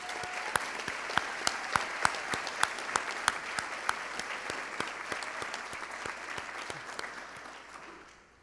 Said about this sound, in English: Could we have another round of applause for them,